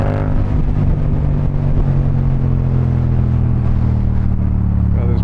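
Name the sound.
motorcycle engine revving while riding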